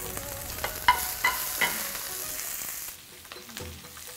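Loud, continuous sizzle of garlic frying in hot oil, with a few sharp stirring clinks early on before the hiss softens.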